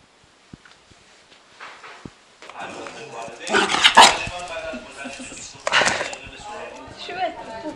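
A dog barks a few times amid ongoing chatter and background bustle, with some softer whimpering sounds near the start.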